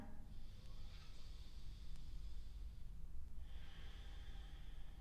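A yoga instructor exhales slowly and audibly through the nose during a sun salutation sequence, with the tongue pressed to the roof of the mouth. Two long, steady, breathy hisses sit close to the microphone, and no one speaks.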